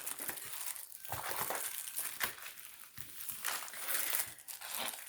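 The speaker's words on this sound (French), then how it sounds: "papier bulle" Steady plastic crinkling and crushing, close and continuous, like bubble wrap being handled, with a few sharper crackles along the way.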